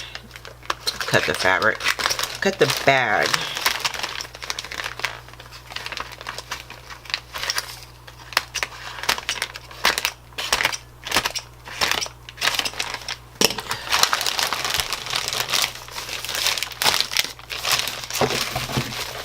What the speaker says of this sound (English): I'm going to carefully cut the bag.